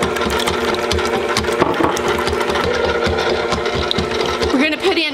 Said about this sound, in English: we're going to turn the mixer on